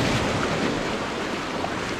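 Sea waves wash and churn against a rocky, kelp-strewn shore during UK lure fishing, a steady broadband surge close to the microphone with wind buffeting mixed in and no talk.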